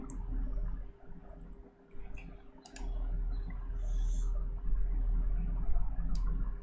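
Sharp computer mouse clicks, a handful scattered across a quiet room with low steady hum, close and distinct with no talking.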